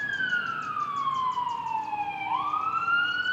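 A loud siren wails nearby, its pitch sliding down slowly and then jumping back up, with faint road noise beneath.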